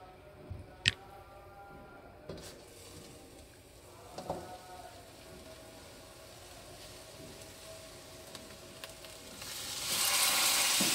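Chicken pieces and galangal spice paste hit a hot wok, starting as faint clicks and scattered taps, then swelling into a loud, steady sizzle over the last second.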